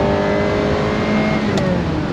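A 1992 Ferrari 348 with a gated manual gearbox revs its engine, holding a loud, steady, close-up drone that climbs gradually in pitch through the rev range without pause.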